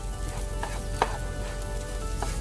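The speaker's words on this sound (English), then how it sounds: "we're going to mix it up with all of the green beans on the pan." Eggs and green beans sizzle steadily in a frying pan while a utensil stirs them, with a few soft scraping clicks over the constant hiss.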